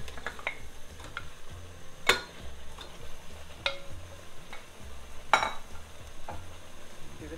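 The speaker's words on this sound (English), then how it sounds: "So I'm going to add the meat now." Shoulder-cut lamb with a little fat going into a pot of masalas for dal curry, with a low steady sizzle and a few sharp metallic clatters and scrapes of the spoon against the pot.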